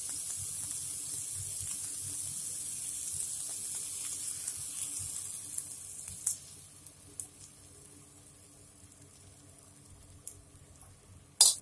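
Beaten egg poured over vegetables in a hot pan for a vegetable egg omelet, giving a steady hissing sizzle through the first half that fades to quieter frying with a few soft clicks and a sharp knock at the end.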